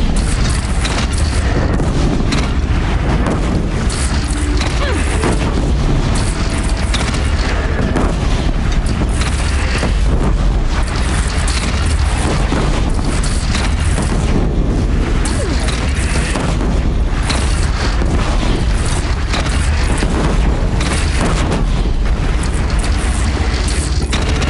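Cannon fire from a single gun in a battle scene, heard as loud continuous booming and rumbling blasts layered with dense crackling, filling the whole stretch without pause.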